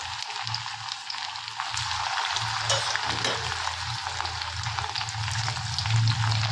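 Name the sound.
deep frying raw banana pieces in a kadhai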